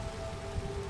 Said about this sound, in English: Of course, there's rain, so that's good.